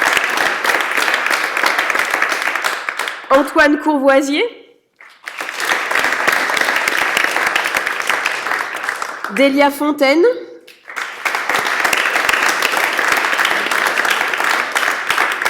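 Audience applause at a continuing-education diploma ceremony, steady rounds of clapping that fill most of the stretch and break twice for a speaker announcing graduates' names.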